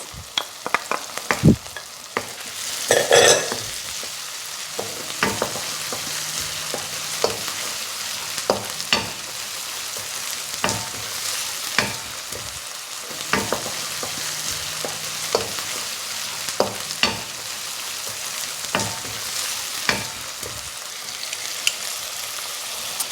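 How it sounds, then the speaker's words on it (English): Takeaway-style fried rice with chili and veggies stir-fried in a pan until golden brown, a constant hissing sizzle broken by intermittent clanks and scrapes of the utensil, near and fairly loud. "stir it until it turns golden brown."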